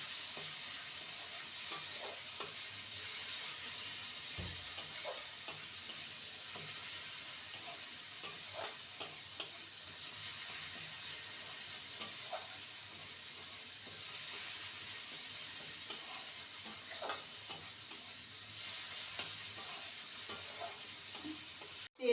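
Raw banana curry masala sautés in a pan, kept on a soft, steady frying hiss with scattered small ticks and light spatula scrapes throughout, low in level and with no voices.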